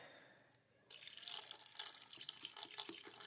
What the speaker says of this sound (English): Go ahead and add the beef broth.